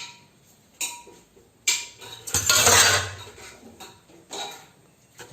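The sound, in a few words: pots and dishes being washed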